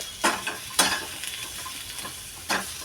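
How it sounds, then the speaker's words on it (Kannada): Chopped onions frying in a pan, with a few sharp sizzling and stirring bursts over a low, steady background hiss. No one speaks. "ಈಗ ನಾನು ಉಳ್ಳಾಗಡ್ಡಿನೂ ಕಟ್ ಮಾಡ್ಕೊಂಡೆ ಸೊ ಇದನ್ನು ಚಲೋತ್ನಾಗ ನಾವು ಹುರ್ಕೊಳ್ಳೋಣ"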